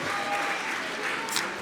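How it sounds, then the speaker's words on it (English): Audience at a live wrestling show claps in a steady, dense burst of applause, close and fairly loud, briefly filling the hall. "I want you guys to give yourselves a big round of applause"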